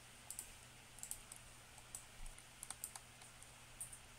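Quiet typing on a computer keyboard, with sparse light key clicks in small bursts and no voices.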